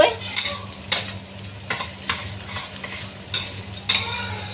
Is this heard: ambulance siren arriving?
no